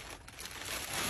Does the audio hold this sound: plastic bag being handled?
yes